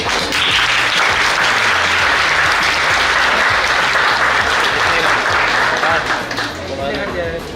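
Dense, loud applause from a large crowd at an academy felicitation and farewell ceremony, sustained and even throughout, with a steady low rhythmic thump running beneath the clapping.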